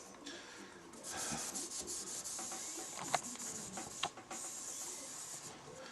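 A pre-moistened pad rubs Glidepro into a surface with steady, close scrubbing strokes, a continuous soft friction hiss with a few sharper scuffs along the way.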